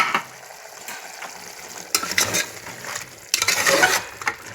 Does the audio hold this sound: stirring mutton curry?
yes